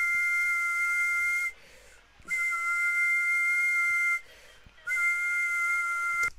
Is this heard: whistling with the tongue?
yes